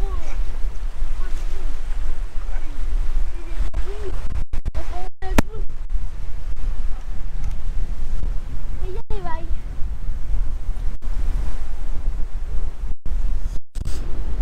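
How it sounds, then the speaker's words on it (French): Steady, heavy wind buffets the microphone at a Florida campsite throughout, a constant low roar with occasional clicks and faint bird-like chirps. "je sais pas si vous allez nous entendre avec le vent"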